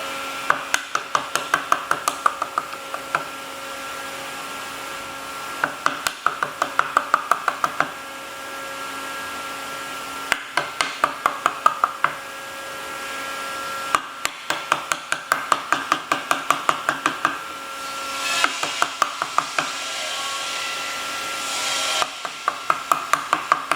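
A wood chisel being struck to cut out a rebate joint for a wooden box, heard as loud, close bursts of rapid, regular knocks separated by short pauses, repeating throughout.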